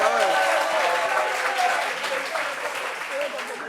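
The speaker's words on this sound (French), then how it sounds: "Applaudissements pour le style de Guy Lopez" Studio audience applauding a guest on a French television debate set, a dense steady round of clapping that stays loud and close before easing slightly toward the end, with faint voices mixed in.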